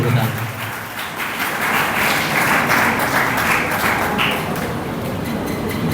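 Loud, sustained applause from an audience at a community tree-planting honouring ceremony, broad and continuous clapping that swells in the middle, with some muffled voices mixed in.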